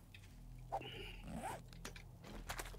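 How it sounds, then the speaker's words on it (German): Zombie dogs in the video game 7 Days to Die snarl and yelp in short, close bursts over a steady low game hum. "Ja, die Hunde sind echt mies."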